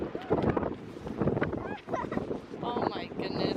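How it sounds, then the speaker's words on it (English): Strong wind at a Pacific Northwest beach buffets the microphone in loud, continuous gusts, with several people talking over the roar throughout. "I didn't know it was that windy."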